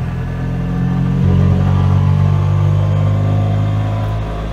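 A small three-wheeler with a torquey single-cylinder engine pulls hard at full throttle, a loud, steady, close-up engine drone holding a low rumbling tone across the whole stretch with slight pitch shifts.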